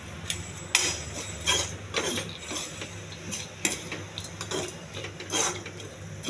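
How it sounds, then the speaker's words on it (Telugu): A knife slices a lemon into two halves in a home kitchen, giving a few crisp cuts and clicks against a board, close and moderately loud, with faint background hum and no talking. "నిమ్మకాయ 2 ముక్కలు కట్ చేయాలి."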